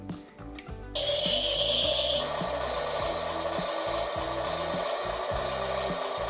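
A 1/16 scale RC Volvo toy excavator's electronic engine effect, a steady synthetic rumble with a high tonal whine, starting abruptly after a short clicky start and running continuously up close.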